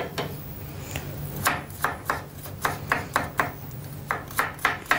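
Garlic chopped on a board with a knife in a home kitchen, a run of about a dozen crisp, fairly close chops, sparse at first and then settling into a steady rhythm, with no talking.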